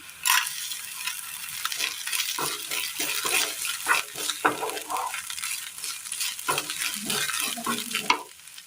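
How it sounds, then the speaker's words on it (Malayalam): Lentils tossed into grated coconut frying in a pan for a Kerala dish, with a steady close sizzle and repeated scraping stirs throughout and no one talking. "ഈ സമയം നമുക്ക് ഇതിനകത്തേക്ക് ഈ പരിപ്പിട്ട് കൊടുക്കാം."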